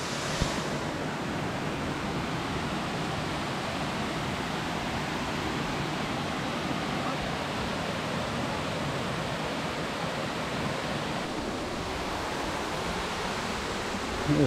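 Mençuna waterfall roars as a steady, loud broadband rush of falling water, continuous and unbroken throughout with no voices.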